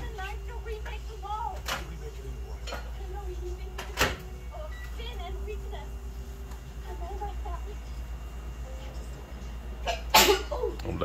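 A single sneeze bursts out near the end amid a busy indoor room, with people talking throughout and other household clatter in the background.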